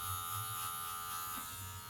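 Electric hair clippers buzz steadily and close by during a fade haircut, a constant electric drone with a slight wavering hum and no talking.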